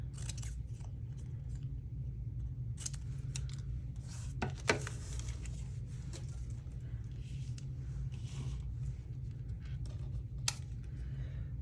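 Scissors snip paper ephemera for a junk journal in a few sharp, quiet cuts scattered over a low steady background hum, with no talking.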